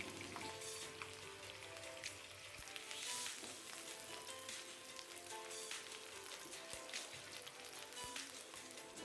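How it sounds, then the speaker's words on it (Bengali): Sliced onion frying lightly in a pan gives a steady, moderate sizzle with fine crackling throughout, heard on its own without talk. "পেঁয়াজটা এখানে খুব বেশি ভাজবো না হালকা একটু ভেজে নিচ্ছি দু চার মিনিট"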